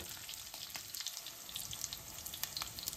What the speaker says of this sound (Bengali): দুদিকটাই খুব ভালো করে ভাজা হয়ে গেছে, এবার আবার তেল ঝরিয়ে তুলে নেব।